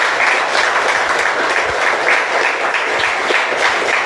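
A church congregation applauds together in a dense, steady wash of clapping that stays loud and even throughout, with no talking over it.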